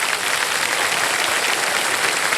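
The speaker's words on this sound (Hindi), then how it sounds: "तालियां बज जाएं इनके लिए।" Studio audience at the KBC quiz show applauding a contestant, a dense, steady wash of many hands clapping at full strength throughout, with no talk over it.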